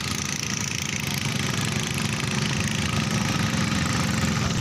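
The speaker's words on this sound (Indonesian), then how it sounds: "kapal klotok." A klotok, a small wooden motor boat on the waters of Muara Berau, drones with a steady, rumbling engine that chugs evenly throughout, close and continuous with no voices.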